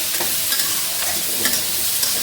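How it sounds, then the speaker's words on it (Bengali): Fish fries in hot oil on a stove, giving a steady, close sizzle with small pops and occasional stirring scrapes. "আর এই চুলায় মাছ ভাজা হচ্ছে"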